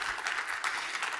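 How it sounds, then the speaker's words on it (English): A keynote audience breaks into steady applause, a dense wash of many hands clapping at moderate distance, evenly sustained throughout without any talk over it. "Thank you for the applause, by the way."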